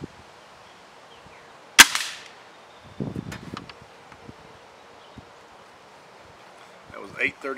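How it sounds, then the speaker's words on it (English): A single sharp crack from a Hatsan 135 QE .22 calibre air rifle firing a pellet stands out, loud and close, followed by quieter handling noises and brief voices. "shoot 10 shots with each pellet"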